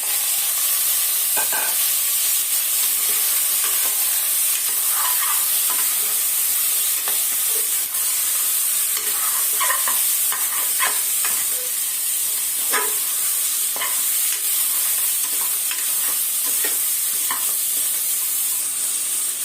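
Mutton sizzles and fries steadily in a pan, a constant loud hiss with scattered pops and crackles and occasional stirring scrapes.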